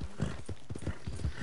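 A dark bay horse's hooves clip-clop in a quick, steady rhythm at close range in a video game, with no talking over them.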